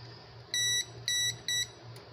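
A multimeter continuity tester gives three short, loud, high beeps in quick succession during the repair of a 50-inch Philips TV with no picture, with faint hum between the beeps and no talking.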